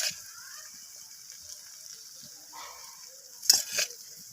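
Khichuri rice mixed with sautéed vegetables and egg being stirred with a metal spatula in a pot. It is mostly quiet at first, then a few soft scrapes and a louder brief shuffle near the end.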